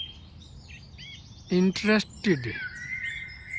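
Birds chirp and sing in a New Jersey park during the evening, high whistling calls running throughout, while someone speaks briefly in the middle.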